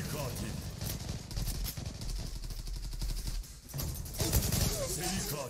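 Rapid bursts of automatic gunfire in the online shooter Zula, dense and continuous with a brief lull before more shots, close and loud, with someone talking over it.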